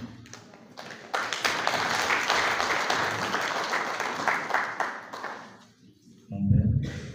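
Audience applause at a conference, a forum for young members of a religious order: dense, sustained clapping swells and holds for several seconds, fades out, then a voice begins speaking.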